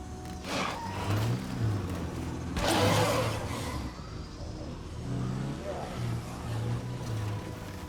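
A car engine in State of Decay 2 revs and roars in uneven surges at night, rising hardest midway through, with a voice speaking over parts of it.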